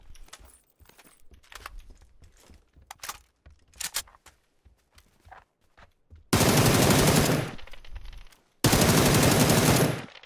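Gunfire in a PUBG match: scattered single shots and short clicks at first, then two long, loud bursts of sustained automatic fire close by, the second after a brief pause.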